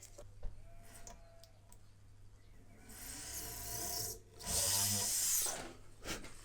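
A small hole is drilled into the deck of a 1/200 scale Trumpeter HMS Hood model ship, giving a close, quiet rasping whir that rises in two bursts, the louder one near the end.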